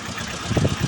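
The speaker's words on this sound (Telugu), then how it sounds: "ఇది ఫ్యాన్ చూడండి సౌండ్ ఎలా వస్తుందో" Short burst of a whirring radiator fan over the low, throbbing hum of an idling Tata Magic mini truck engine, close by.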